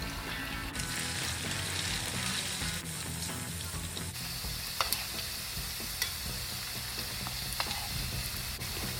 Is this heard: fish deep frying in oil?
yes